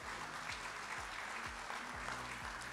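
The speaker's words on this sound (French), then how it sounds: "Je vous propose d'applaudir une nouvelle fois Valérie." Audience applauding a speaker at a humanist ecology round table in Guidel, steady sustained clapping throughout, with a low rhythmic musical pulse underneath.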